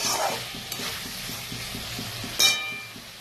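Potatoes and spices stirring and frying in oil for aloo dum, with a steady sizzle, a rhythmic scrape of the spoon against the pan and a sharp clink near the end.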